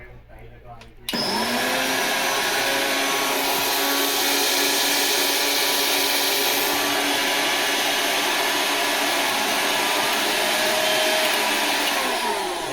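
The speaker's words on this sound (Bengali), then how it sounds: "এখন তো ব্লেন্ডারটা আপনাদেরকে চালাই দেখাচ্ছি" An electric household blender starts up after a second of quiet, then runs loud and steady on its motor, a continuous high whine and buzz that holds without a break to the end.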